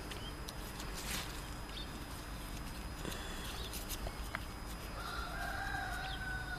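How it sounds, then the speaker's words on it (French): Hens and roosters close by outdoors in a garden setting, with a rooster crowing near the end over soft background noise and scattered clucks, and no talk. "j'ai remarqué tout à l'heure qu'il y avait des poules et des coqs"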